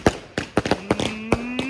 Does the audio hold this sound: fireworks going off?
yes